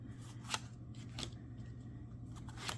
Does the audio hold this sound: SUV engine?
no